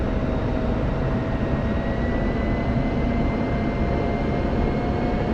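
A light aircraft, a Cessna 172 in a flight simulator, drones in a continuous loud roar with steady engine tones, alone with no talk, during a landing.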